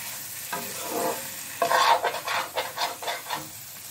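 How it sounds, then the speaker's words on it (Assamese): Meat fries in a pan with a soft sizzle, then gets stirred in a series of close, rhythmic scraping strokes against the pan, with no talking. "মাংসখিনি ভালদৰে এতিয়া ভাজি ল'ম মাংস ভজা হৈ গৈছে"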